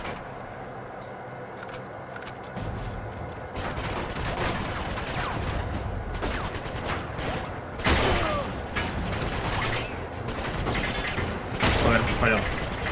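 Sniper rifle shots and other gunfire ring out in Uncharted 2, sharp bursts and clattering mechanical sounds breaking through a loud, busy game soundscape.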